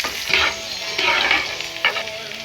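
Garlic and onions fry in a pan where potatoes and carrots were just fried, a close, steady sizzle broken by bursts of stirring scrapes.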